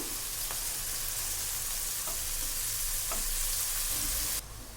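Tomato and eggplant pieces fry in a pan with a steady, loud sizzle and occasional stirring scrapes. The hiss drops away near the end and there is no talking.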